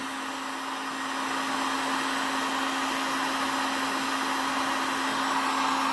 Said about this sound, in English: Get your old heat gun flat out.